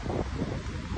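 Strong wind buffets the microphone outdoors, a steady, loud low rumble with gusty roar throughout and no voices.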